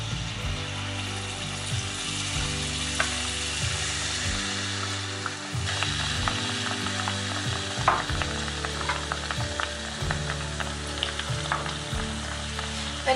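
Malpua batter frying in a pan of hot oil, a steady crackling sizzle close up throughout with occasional small clinks and pops, no voices.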